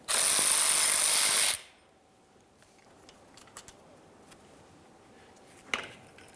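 A power tool runs loud and steady for about a second and a half while removing the final bolt of a transfer case shift motor on a 2005-2010 Dodge Dakota, then cuts off to quiet with a few faint clicks and one sharp knock.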